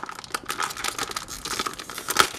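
A crinkly plastic collectible packet from a DeAgostini Magic series is torn open close by, giving irregular bursts of crackling and ripping with small sharp peaks, and no talk.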